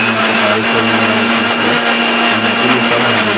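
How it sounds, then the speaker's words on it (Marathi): A mixer grinder grinding roasted spices runs loud and close, a steady high whirring motor with a constant droning tone, grinding without pause. "नंतर आपण मिक्सरमध्ये घेऊन पिसणार आहोत"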